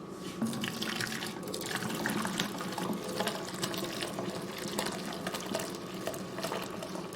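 Liquid is poured gently while making tofu, a soft continuous watery trickle and splash, close and steady, with faint clinks and no talk.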